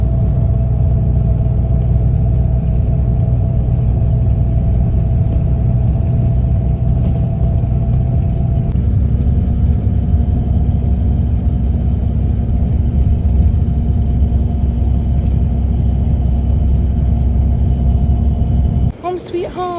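Steady low engine rumble from a direct airport bus travelling along, constant and close, with road noise throughout; a brief higher sound appears near the end.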